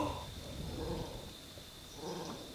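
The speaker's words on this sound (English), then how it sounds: "You can actually hear the dogs barking at the lions." Distant wild dogs barking and growling at lions come in two short bursts over steady outdoor background hiss on safari, faint and far away.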